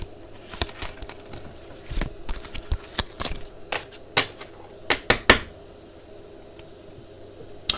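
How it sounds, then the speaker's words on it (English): Playing cards are shuffled and handled by hand, with a run of quick, sharp riffling snaps and papery taps of varying loudness, close by and with no voices. "Shuffle the cards."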